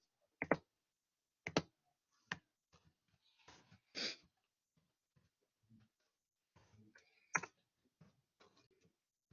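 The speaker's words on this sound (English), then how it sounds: "I'm just typing it in to make it a little bit easier." Typing on a computer keyboard, with scattered sharp clicks and short bursts of keystrokes at irregular intervals, fairly quiet and close, with no talking.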